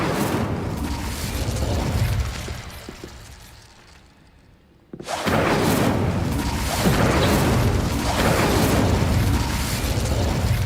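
Incendio fire spells cast repeatedly in Hogwarts Legacy, a loud continuous roaring, crackling blast that briefly drops to a quieter hiss before bursting back to full, sustained force.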